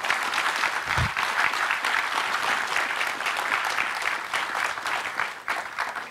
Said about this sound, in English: So a round of applause for Danny.